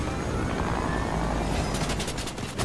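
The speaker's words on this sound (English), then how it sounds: "I'm gonna crash a helicopter into him." Helicopter in a video game, a loud steady rotor roar with rapid gunfire-like bursts toward the end, no talk.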